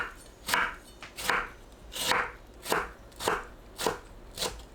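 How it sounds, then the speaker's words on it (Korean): Knife chopping tomato into small pieces on a cutting board, about eight crisp, evenly spaced cuts with a wet crunch, close and moderately loud, with no voices. "토마토는 꼭지와 심지를 손질하고 1cm 크기로 작게 썰어주세요."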